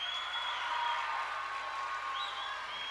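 Applause and cheering from the crowd at a college gymnastics meet, hosted by Kent State with Fisk and West Virginia competing, after a routine with a stuck landing: a steady, dense wash of clapping that holds for the full three seconds.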